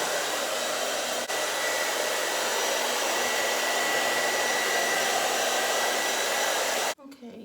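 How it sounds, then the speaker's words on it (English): A hair dryer blows a wig dry, its loud steady whoosh running continuously at close range before cutting off abruptly near the end, with no talking. "So you blow dry it."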